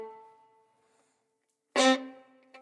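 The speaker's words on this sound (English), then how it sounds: "the third layer is called martelet, which means hammered in French, and it sounds like this" Violin played with a martelé bow stroke: a single sharp, hammered attack lands after a quiet pause, following the fading tail of an earlier note. A short second accent comes just after.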